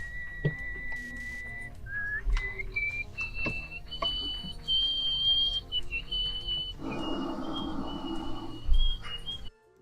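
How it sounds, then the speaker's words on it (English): A world-record nose whistler plays a loud, shrill whistled melody, sustained pitched tones stepping up and down over faint background noise, with a low buzzing stretch near the end. "That is a rather loud nose whistle."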